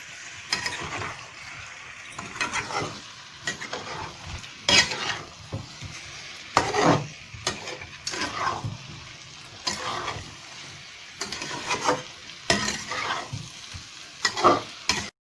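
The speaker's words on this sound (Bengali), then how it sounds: "ডিমটা কষানো আমার হয়ে গেছে" Eggs being sautéed in a pan for Bengali egg curry, a soft sizzle broken by repeated scraping and stirring strokes of a utensil against the pan, in an irregular rhythm, close and without talk.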